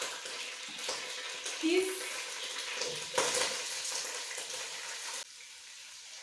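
Sliced onions hit a hot pot for chicken pilau and fry with a steady, close sizzle, broken by a few stirring scrapes, then settling into a quieter hiss near the end.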